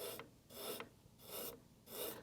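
A sanding paddle files the felt hammers of a Steinway Model B grand piano in four steady back-and-forth rasping strokes, close and dry, with short pauses between them and no talking.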